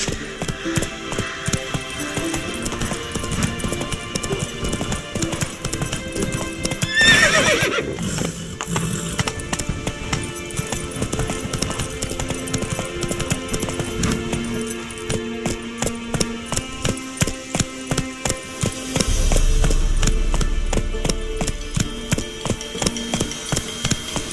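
Roach the horse galloping in a video game: steady loud rhythmic hoofbeats that run the whole way, with a neigh partway through, mixed over constant game music, no talking.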